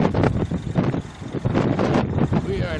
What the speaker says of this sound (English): At the top it was beautiful and windy.